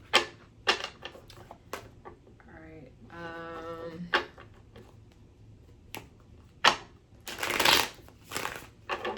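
Tarot cards being shuffled during a card reading, heard as several sharp riffling bursts scattered across the clip, with a longer riffle near the end. A voice speaks briefly in the middle.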